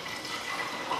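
Cold water, about 2.2 litres, being poured into the front of a coffee machine, a soft continuous splashing trickle heard close and fairly quiet for a brief moment.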